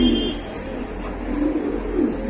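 Siraji pigeons coo inside a pigeon shop, a few soft, low, rolling calls repeating close by over a steady background hum.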